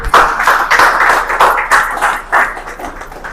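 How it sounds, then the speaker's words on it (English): An audience clapping at a live real estate company presentation: loud, dense hand clapping in surging waves that runs throughout without a break. "Clap again."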